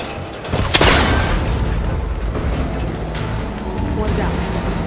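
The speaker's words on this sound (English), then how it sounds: "That connector's holding the cables together. It should break if I shoot it." In Horizon Forbidden West, a shot strikes a cable connector, a sharp crack that snaps it, followed by a steady, loud mechanical rumble and grinding.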